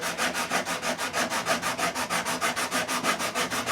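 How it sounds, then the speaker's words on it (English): A sanding block scrubs a guitar fretboard during a re-fret, with rapid, even back-and-forth strokes at about five per second, loud and close with no talk. "We're going to scrub that one little spot, and then I'm going to use a slightly longer block to get that upper end."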